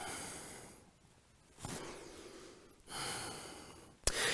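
A person on all fours in a yoga flow breathes deeply, with slow, audible inhales and long, airy exhales repeating close by in a quiet room.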